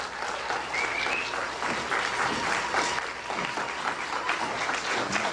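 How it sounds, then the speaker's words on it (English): An audience gives Dr. Charles Finch a warm, steady round of applause after his talk, a continuous wash of clapping at moderate distance with no break. "Let's give him a warm round of applause."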